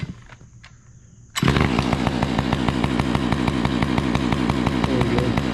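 A chainsaw engine roars to life about a second in and keeps running at a steady, loud, rough mid-pitched drone while warming up for cutting a dangerous widow-maker tree outdoors, with no talk over it.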